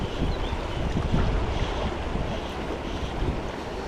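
Really fast river water rushing in Poland during a fly-fishing trip, a steady, loud broadband roar of turbulent flow with wind buffeting the microphone, continuous throughout with no talking.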